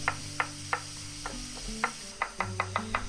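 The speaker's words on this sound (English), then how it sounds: "we're going to chop up some portobellos to create, you know, the faux duxelle" Knife chopping portobello mushrooms into small pieces on a board: a run of crisp, evenly spaced close taps, about a dozen in three seconds, over a steady low background hum.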